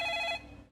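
Telephone ringing indoors, a short loud electronic ring with steady tones that cuts off abruptly after about a third of a second, leaving faint low hum and then silence.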